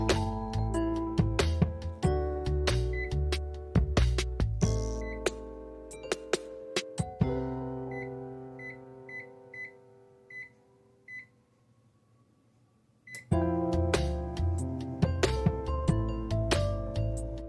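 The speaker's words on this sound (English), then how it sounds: "I'm going to be using my air fryer." An air fryer set to 400 degrees cooks pizza rolls, giving a steady low hum and a run of short, evenly spaced beeps in a quiet gap between loud stretches of music.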